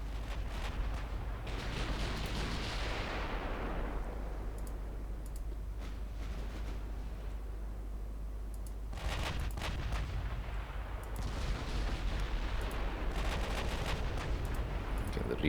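Heavy naval guns firing armour-piercing shells in the naval warship game Ultimate Admiral Dreadnoughts, deep booming salvos with long rumbling tails, one early volley then a denser cluster of blasts later, steady low drone underneath.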